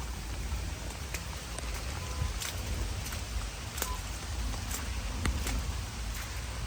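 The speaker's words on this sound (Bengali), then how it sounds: "এত বৃষ্টি হচ্ছে এখানে এত অসাধারণ একটা বৃষ্টি" Heavy rain over a large river hisses evenly, with scattered sharper drip ticks breaking through the constant wash.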